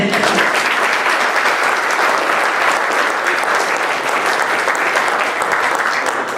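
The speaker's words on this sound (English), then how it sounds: "Yes, you can applaud." Steady, dense applause from a crowd at a school board of education meeting, loud and continuous throughout with no voices standing out above it.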